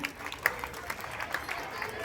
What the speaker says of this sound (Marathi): बाळांनो, जोरदार टाळ्या वाजवून आपण त्यांचे अभिनंदन करूया.